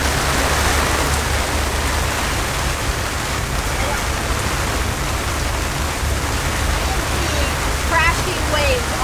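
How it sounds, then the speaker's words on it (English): Heavy storm rain roars steadily around a catamaran, a dense, loud, continuous hiss with the rush of crashing waves folded in and a faint voice near the end. "Crashing waves off our side."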